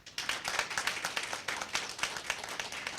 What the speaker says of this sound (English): Another round of applause for both our teams